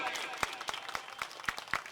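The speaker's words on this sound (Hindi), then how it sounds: "जोरदार तालियां बजना चाहिए भाइयों।" Sparse, scattered handclaps from a rally audience at a Hindu religious gathering in India, several sharp claps spread over two seconds rather than full sustained applause, with a murmuring crowd underneath.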